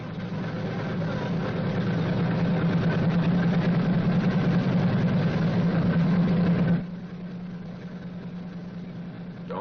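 Radial piston engine of a B-29 Superfortress bomber starting and running, a loud steady rumbling drone that holds for about seven seconds, then drops to a lower, quieter idle.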